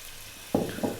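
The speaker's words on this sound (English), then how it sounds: "So I'm going to add some water to this now." Water hits beef in a hot pot for an Arab beef biryani, setting off two short, sharp sizzling bursts close by after a quiet moment.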